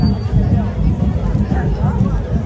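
Dense crowd noise at an Ekvira palanquin procession, a continuous roar of many voices and excited shouting close around, with no single voice standing out.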